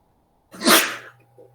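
A single loud, close sneeze erupts and fades with a short breathy tail during a university criminal law lecture, with no talk over it.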